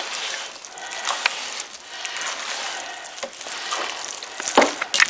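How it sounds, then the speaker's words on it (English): Tuna noodle casserole mixture being stirred in a bowl, giving a steady wet scraping and squelching texture with a few sharper clinks near the end, close and fairly loud, with no talking. "I'm going to stir that up."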